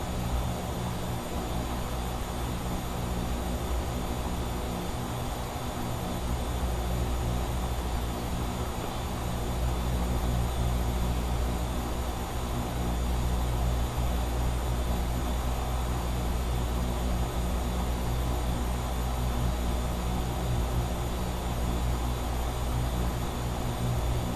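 The RealAir Duke twin-propeller plane in a flight simulator drones with a steady, loud engine hum, a continuous tonal roar with stable pitch throughout and no talking.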